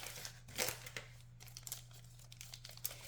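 Plastic packaging of a Happy Planner sticker packet crinkles and tears as it is opened up close, in irregular rustling bursts over a steady low hum.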